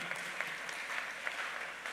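An opening-ceremony audience at a climate change and green economy event gives a round of applause to welcome a speaker, a steady moderate wash of clapping with no voices over it.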